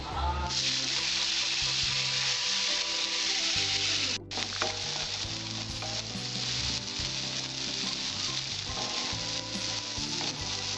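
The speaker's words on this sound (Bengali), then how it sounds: "এবার আমি কড়াইয়ে তেল তেলটার মধ্যে ছেড়ে দেবো" Neem leaves sizzle and fry in hot mustard oil in a kadai, a loud steady crackle running throughout with a brief gap near the middle and occasional stirring.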